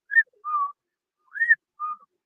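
Four short whistled notes from a person imitating a whistling sound, clear and isolated with gaps of silence between pairs, some notes rising and others flat, heard close with no background.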